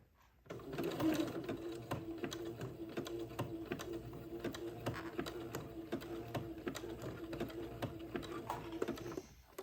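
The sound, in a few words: sewing machine sewing gathered lace onto entredeux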